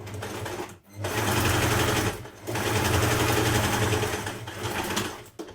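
A sewing machine stitches a dress shoulder seam in bursts, a loud, steady whir broken by two short pauses, with a brief backstitch at the end.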